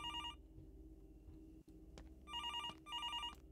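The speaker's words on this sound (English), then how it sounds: "That is a loud phone." A loud electronic telephone ringing in a horror hotel game, two or three bright trilling bursts separated by short gaps, with a low hum and faint footsteps underneath.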